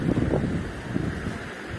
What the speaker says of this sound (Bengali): প্রচণ্ড হাওয়া দিচ্ছে, প্রচণ্ড, মানে কল্পনার বাইরে যা হাওয়া দিচ্ছে।